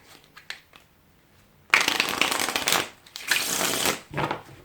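A deck of playing cards gets cut and shuffled, with a few faint taps first and then two loud, close riffling bursts of cards flicking together.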